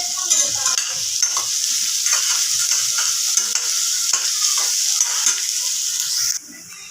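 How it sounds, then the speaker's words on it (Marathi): Onions sautéing in a pan for a spicy chickpea curry, with a steady close sizzle and scraping stirs of a utensil throughout, stopping abruptly near the end. "कांद्याला चांगलं परतवून घ्यायचं"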